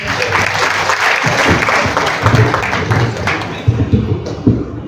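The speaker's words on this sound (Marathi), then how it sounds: "रेवतीताईंसाठी एकदा जोरदार टाळ्या." Loud applause from an audience at a community gathering in Jalgaon, with dense, close clapping that carries sharp individual claps and holds steady throughout.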